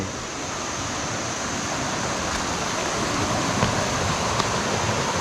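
Steady roar of a waterfall at Mae Tia in Op Luang National Park, Chiang Mai, heard as continuous broadband rushing water at a close, even level throughout, with no voices.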